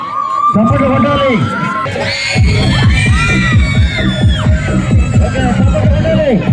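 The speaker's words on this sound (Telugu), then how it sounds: "శ్రీకాకుళం చప్పట్లు కొట్టాలి." A crowd at a volleyball prize ceremony cheers and shouts loudly, with a dense babble of voices running throughout.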